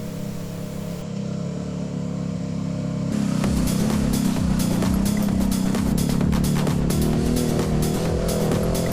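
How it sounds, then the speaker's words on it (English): Kawasaki Teryx Sport side-by-side from 2012 idling through a Gibson exhaust, a steady low rumble that steps up louder around three seconds in with a rough, pulsing throb, close by and alone. "When we fired up the Teryx, we were greeted by the Gigbson exhaust low rumble."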